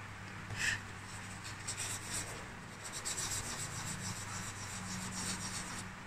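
Dry pastel rubbed across paper while colouring a treasure map card, a soft continuous scratchy rubbing at close range with faint strokes and light taps.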